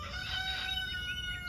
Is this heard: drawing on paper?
no